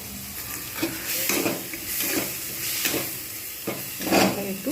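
Spice masala for a bhetki fish curry sautés and is stirred in hot oil in a pan, with a continuous close sizzle and repeated scraping strokes of the spoon.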